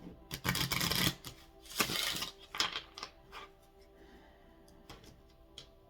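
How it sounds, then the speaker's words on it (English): A deck of tarot cards being shuffled by hand gives two loud riffling bursts followed by softer flicks and taps, close and clear. "3 shuffles here, Taurus, and then we'll cut the deck."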